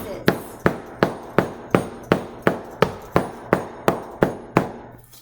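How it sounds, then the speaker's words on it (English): A small kitchen utensil hammer strikes cookies inside a ziplock bag in a steady run of about thirteen sharp, evenly spaced whacks. The blows are close and loud and no one talks over them. "I have my little kitchen utensil hammer, and I'm going to gently break the cookies into little pieces."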